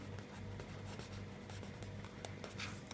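Pen writing a net profit entry on paper during an accountancy lesson, a faint continuous scratching with short strokes over a quiet hum.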